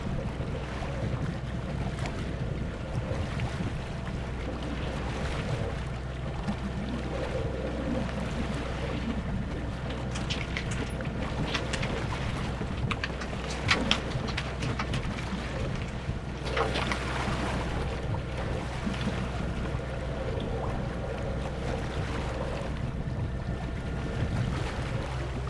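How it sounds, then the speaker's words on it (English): Wind rushes and waves slap against a sailboat under mainsail, beating into the seas; a steady low roar with broadband gusts and splashes swelling now and then, no talk. "the winds and the waves are just coming right at us"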